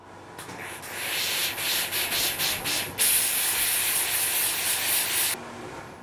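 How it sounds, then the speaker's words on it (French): Steam cleaner hissing against fabric while lifting a stain, a steady broadband whoosh that pulses in short bursts at first, then turns into one loud continuous blast before dropping to a softer hiss at the end. "Pour retirer l'excédent de la tâche, je peux utiliser de la vapeur."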